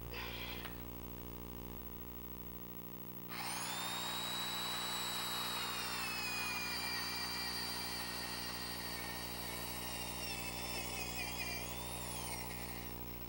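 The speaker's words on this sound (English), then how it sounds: "the first step is to drill up through the double plates" A power drill bores up through the double top plates of a wall to make a hole for a kitchen vent, whining loud and steady at close range for about ten seconds after a short start.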